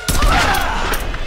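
A burst of gunfire from the player's weapon in the Tomb Raider video game fires in a brief, loud volley that runs through the whole moment, with no talk.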